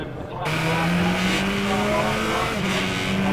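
Praga Cup race cars roar off the start line together, engines rising in pitch as the pack accelerates, loud and close, with a commentator talking over the noise.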